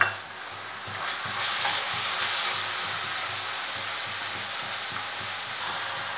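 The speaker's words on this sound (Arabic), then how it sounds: "من بعد ما طاحت البصله ديالي نبدا نزيد عليها صدر ديال الدجاج" Chicken breast and onion sizzle steadily in hot olive oil, a soft continuous frying hiss with faint stirring scrapes in the pan, close and moderately quiet, with no talk.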